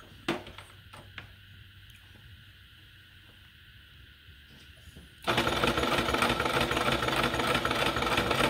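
A sewing machine stitches around the edge of a fabric 3D face mask. Quiet handling clicks come first, then the motor starts abruptly with a steady, loud buzzing whir that runs to the end.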